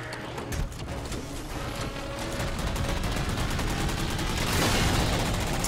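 Sustained, rapid gunfire in Halo 4 rattles on throughout, dense and loud over a roaring background of combat noise, swelling slightly louder toward the end.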